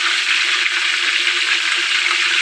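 Chicken pieces for a wedding-style chicken roast sizzle steadily in hot oil, a dense, even, close frying hiss that holds without a break and has no talk over it.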